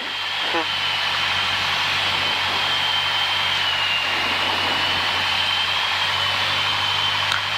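Light aircraft on approach to land at Blackpool, heard as a steady engine drone and broad airflow hiss from inside the cockpit, with a faint whining tone running throughout.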